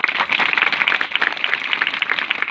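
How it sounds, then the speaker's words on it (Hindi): Children clapping together in a school setting for a storyteller, a steady fairly loud patter of many small hands lasting a few seconds. "तो पहले तो दीदी के लिए तालियां बजाइए।"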